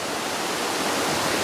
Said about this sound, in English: a beautiful river with some beautifully flowing water.